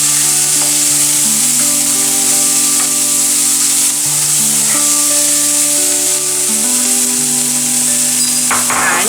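White sauce pasta being stirred and fried in a pan with butter gives a steady, close sizzle with a few soft scraping stirs, running under quiet background music.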